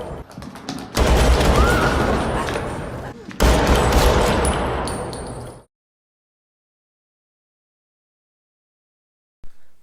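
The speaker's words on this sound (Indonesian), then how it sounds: "Tembakan yang Gojek buat membuat situasi menjadi chaos." Loud, dense bursts of automatic gunfire in a film scene, roaring for several seconds, briefly broken, then cutting off abruptly into silence.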